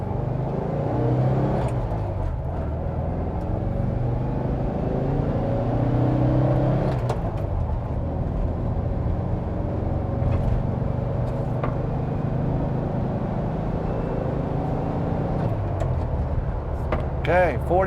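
A 1970 Volkswagen Westfalia camper van pulls away in first gear, its air-cooled engine droning steadily and rising in pitch as it accelerates, loud and close from inside the cab.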